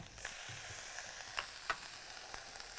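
Meat sears in a hot pan, a steady faint hiss and sizzle with a few small pops, heard alone without talk.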